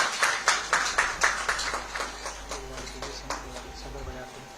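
Clapping in unison at a police bravery award ceremony in Uttar Pradesh, a steady run of sharp rhythmic claps that gradually fade in loudness, with a voice and low hum underneath.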